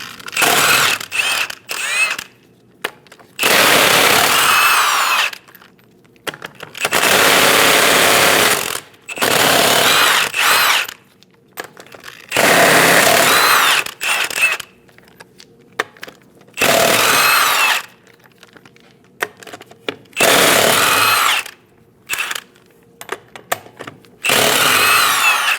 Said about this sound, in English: remove all 8 lug nuts